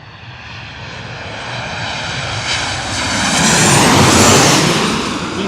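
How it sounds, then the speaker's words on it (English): Boeing airliner engines at LaGuardia Airport in Queens, New York, a loud, thick roar that swells as the plane passes close by and peaks near the end, with no talk over it. "You see, you really hear those Boeing aircraft. Those Boeing aircraft are nice and loud and has a meaty, thick sound to it."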